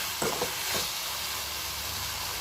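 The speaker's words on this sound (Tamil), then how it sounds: "ஃப்ரெஷ்ஷான கருவேப்பில் தக்காளி நல்லா குலைவாக வதங்கிட்டுருக்கு" Tomatoes and fresh curry leaves saute in a pan for tomato chutney, with a steady, close hissing sizzle and a couple of brief stirring scrapes near the start, and no talking.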